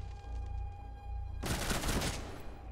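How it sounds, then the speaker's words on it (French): Assault rifle fire in the video game Rainbow Six, from a gun with an 80-round magazine. A sudden loud, dense burst of rapid shots starts partway through and continues to the end, after a quieter stretch of game ambience. "c'est en fait c'est un fusil d'assaut, mais genre en mode. Elle a 80 balles."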